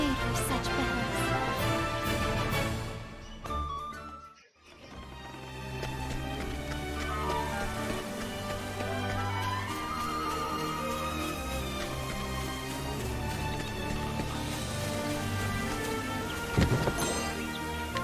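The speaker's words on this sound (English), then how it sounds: "Thunderstorm." Thunderstorm with rain in the video game Octopath Traveler, a steady wash of rainfall under layered game music, broken by a sharp drop near the middle and a brief crack of thunder later on.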